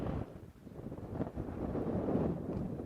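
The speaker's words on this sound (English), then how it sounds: "It's getting super windy out here now, so a lot of the animals are quite nervous with this wind." Strong wind gusting through bushes on an evening safari drive, a steady low rushing roar with buffeting against the microphone, loud and continuous with no voices.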